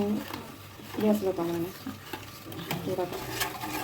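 Jam made from palayankodan bananas stirred in a pan as it cooks down, a steady scraping and bubbling sizzle up close, with a voice speaking over it.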